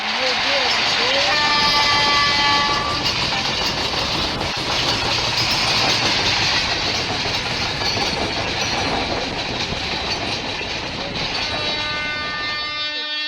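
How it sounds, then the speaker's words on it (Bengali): An express train in an Indian railway crossing simulator game rumbles past with rapid clickety-clack of wheels and repeated long horn blasts, loud and continuous throughout, with a voice talking over it. "গাইজ দারুণ হংকিং করতে করতে চলে এসেছে আমাদের ট্রেন।"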